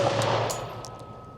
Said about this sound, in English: we have here 4 rounds with the FNX tactical pistol